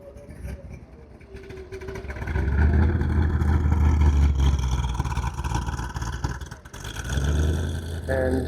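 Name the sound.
ISO Grifo V8 cars driving off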